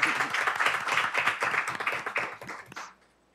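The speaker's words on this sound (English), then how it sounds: "We can clap it up." Applause fills a school board meeting room, many hands clapping steadily and fairly close for about three seconds in honor of a school football rushing touchdown record, then cutting off abruptly into near silence.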